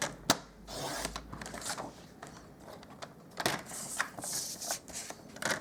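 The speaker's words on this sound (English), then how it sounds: "I'm just going to cut some more cardstock now." Cardstock is sliced on a paper trimmer at a craft table while making a leaf-themed card, giving close, quiet scraping and sliding strokes with a few sharp clicks of the blade, irregular and faint, no talking.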